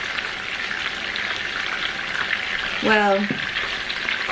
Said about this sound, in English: add the sauce and the broccoli to the pan, stir to combine, bring it to a boil,